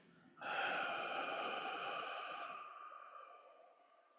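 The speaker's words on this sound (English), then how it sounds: "Double inhale through the nose, 10 count exhale through the mouth" A breathing exercise done in a quiet room: a sharp nasal inhale followed by a long, steady, breathy exhale through the mouth that slowly fades over several seconds.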